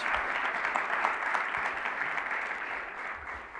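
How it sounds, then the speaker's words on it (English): An audience applauds officials, including a Fillmore District council member, at an announcement by New York's governor; steady, dense clapping from a crowd continues throughout at moderate distance, fading slightly at the end. "Let's give them all another round of applause."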